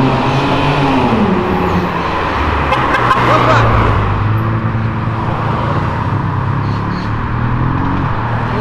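A car engine rumbles steadily as a vehicle drives past, with broadband road noise throughout and no clear speech.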